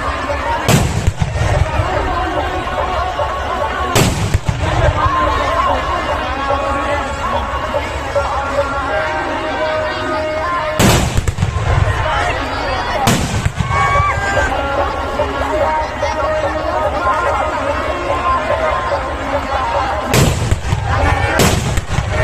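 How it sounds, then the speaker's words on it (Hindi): Firecrackers explode at a Ravan Dahan effigy burning in Maithi, Gaighat, Muzaffarpur, with several sharp loud bangs spaced irregularly over a steady crowd murmur and distant chatter. "गजब बम है भाई, बम है आवाज़ है।"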